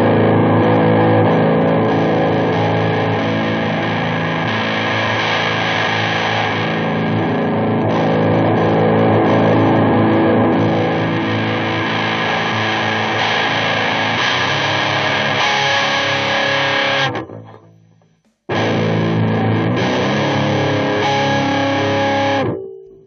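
Electric guitar heavily distorted through a Greenhouse Effects Sludge Hammer pedal plays loud, gritty sustained chords for a long stretch, cutting out briefly near the end before resuming.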